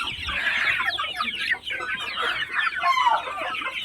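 A flock of chickens on a poultry farm keeps up dense, overlapping clucking and squawking nearby, continuous and busy throughout.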